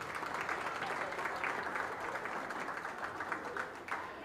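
A crowd applauds the exhibitors at a county fair open beef show, continuous many-handed clapping at moderate distance, steady and even, with a few louder claps near the end.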